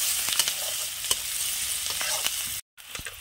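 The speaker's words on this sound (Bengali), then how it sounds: "পেঁয়াজটা একটু ভাজা ভাজা করে নিতে হবে।" Onion frying in a pan for a mushroom dish gives a steady sizzle, with occasional sharp clicks of stirring and a brief drop to silence near the end.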